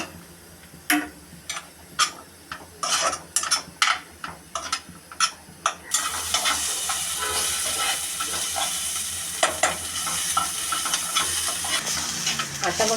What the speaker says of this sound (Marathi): एकदम कमी गॅस ठेवून मी हा कांदा परतवून घेत आहे